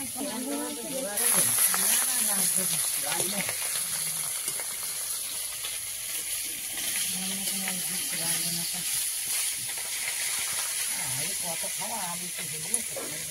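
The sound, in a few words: whole loitta fish frying in a pan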